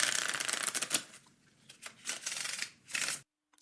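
A deck of playing cards being shuffled up close, several quick riffling bursts with short pauses between, alone and fairly loud, ending in silence.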